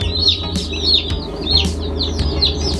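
Baby chicks peep in a brooder, a dense, continuous chorus of high chirps close by with a low steady hum underneath and no talking.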